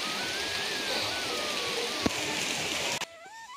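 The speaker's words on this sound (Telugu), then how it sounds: "అక్కడ వర్షం ఆగట్లేదు" Steady rain pours down nonstop through a half-hour downpour, a dense even hiss with a sharp knock midway, then the rush suddenly thins near the end.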